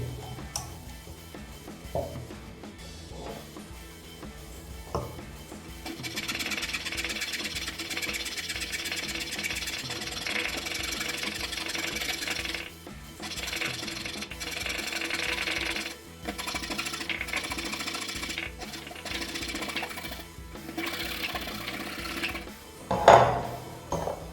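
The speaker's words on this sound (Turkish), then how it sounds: "Törpü kullanacağım bunun için" A rasp files the back of a carved cherry wood dessert spoon in a long run of rhythmic, gritty scraping strokes, steady and close, broken by brief pauses and a sharp knock near the end.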